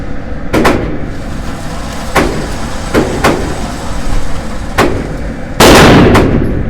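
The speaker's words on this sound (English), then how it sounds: "We'll put 10 more rounds through it." A CZ P-10F pistol fired at a range, about seven sharp loud shots spaced irregularly, with one louder, longer blast near the end, and no talking.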